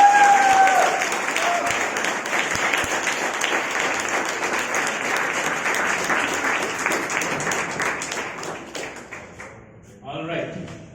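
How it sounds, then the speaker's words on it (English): A big round of applause from the audience at an open meeting: loud, dense clapping that lasts about nine seconds before it dies away, then voices start up at the end. "it should be a big round of applause for that"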